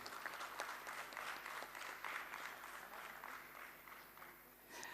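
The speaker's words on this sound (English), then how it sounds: "A nice big round of applause, ladies and gentlemen." Audience applause at a stock exchange listing ceremony, a sustained, fairly distant patter of many hands clapping that stays even and then tapers slightly at the end.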